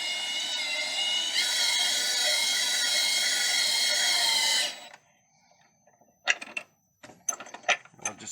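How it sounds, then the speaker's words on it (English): An electric drill runs for about five seconds, with a strong, steady motor whine, while tightening the running board bolts on a 2017 Ram 1500. It then stops, and sharp clicks and brief mechanical clatter follow. "I don't know what I'd do without an electric drill pre-tightening things."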